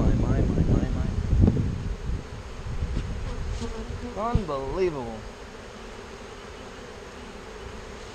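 Honeybees buzz in a dense, continuous drone around a beehive after winter losses, close and steady, while someone speaks briefly over it.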